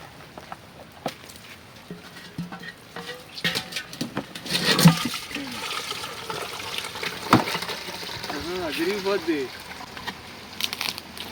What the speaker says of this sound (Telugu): మళ్ళీ వర్షం స్టార్ట్ అవుతుంది. మళ్ళీ చినుకులు.